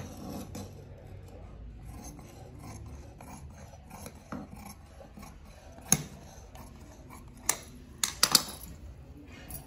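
Scissors cutting jacket fabric at a tailoring table: soft rasping snips and rubbing through cloth, close and quiet, with a few sharper clicks of the blades near the end.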